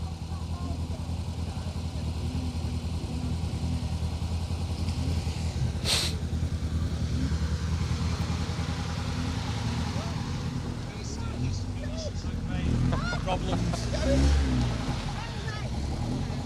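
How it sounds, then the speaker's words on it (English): A Mazda MX-5 rally car on a stage of the Woodpecker Rally gives a steady low engine rumble throughout, rising briefly near the end, under continuous commentary. "Paul Gorge, having put that fairly impressive time through in the MX-5, now makes his way from the end of the stage"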